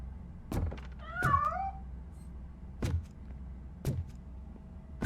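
A cat meows once in the video game RoboCop: Rogue City, a short rising-falling call set among several sharp thuds and clunks in a quiet game scene.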